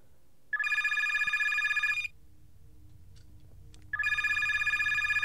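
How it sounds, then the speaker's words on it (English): Telephone ringing in a Minecraft horror map, two long electronic trilling bursts about two seconds apart, loud and close with a quiet hum between rings. "Someone pick up the phone, please."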